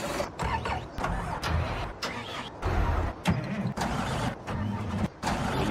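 Wheel loader engine in Farming Simulator 19, a steady low rumbling drone with mechanical clatter running throughout, loud and close, with brief dips in level.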